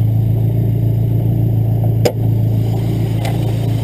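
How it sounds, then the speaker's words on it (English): A 1995 Dodge Neon race car's 2-liter single overhead cam engine idles steadily up close, a constant low droning hum with a brief click partway through and no talking. "So the engine is a 2-liter single overhead cam."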